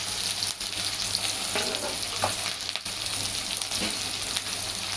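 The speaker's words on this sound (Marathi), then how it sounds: "लसूण टाकून घ्यायचं आहे, कढीपत्ता, मिरची आणि कांदा मी एकसाथ टाकला आहे नरम होण्यासाठी म्हणून." Garlic, cumin, curry leaves, chili and onion fry together in a pan with a dense, close sizzle. Brief scraping and stirring clatters break in now and then, and no one talks.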